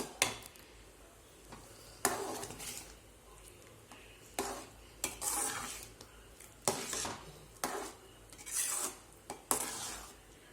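A spoon scrapes and clanks in a pot while sweet pongal with cardamom is stirred, giving repeated bursts of metallic stirring spaced a second or two apart, close and fairly soft, with no voices.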